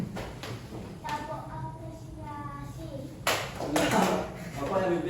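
An Indonesian elementary-school class gives a rhythmic appreciation clap during a teaching-practice lesson, with a burst of clapping swelling toward the end over classroom voices and talk.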